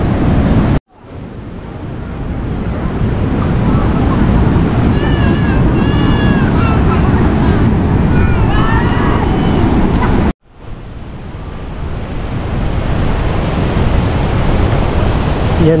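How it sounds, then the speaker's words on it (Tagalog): Rough waves surging against a rocky cliff shore at Casiguran, Aurora, a loud continuous broadband roar with faint high cries or voices partway through, broken by two brief cuts to silence. "Sa parteng ito guys, parang medyo nagngangalit ang mga alon."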